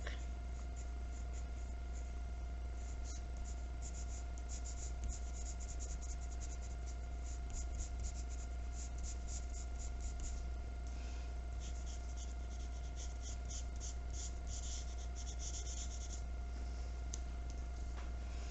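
A pencil shades a dark area on paper in a drawing of Leonardo da Vinci, a faint continuous scratchy rasp with soft rhythmic strokes over a low steady hum.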